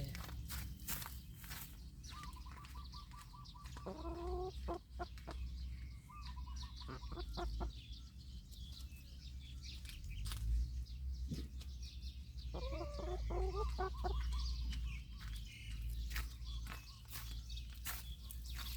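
Chickens cluck in bursts on a mixed farm of corn and melons, with footsteps crunching nearby throughout and the birds heard close and moderately loud.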